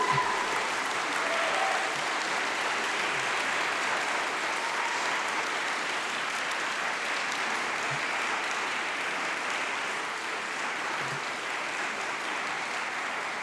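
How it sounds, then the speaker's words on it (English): Graduates and guests in a great hall at a winter congregation ceremony give a sustained, dense round of applause that holds steady and loud throughout. "So please stand up and please give them a huge round of applause."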